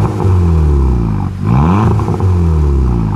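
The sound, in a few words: car engine revving twice in a parking garage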